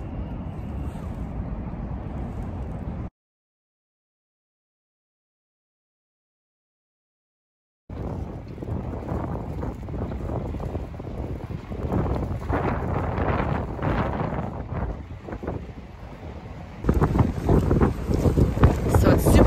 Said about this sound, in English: So it's super windy, so I don't know if you can hear me